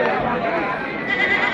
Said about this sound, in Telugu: యానా నుంచో వస్తున్నాయి మేకలు.